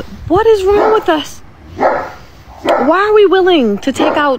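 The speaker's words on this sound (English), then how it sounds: "excuse the dog in the background, my neighbor's dog." A neighbor's dog barks faintly in the background, a few scattered yips beneath someone speaking loudly and continuously in the foreground.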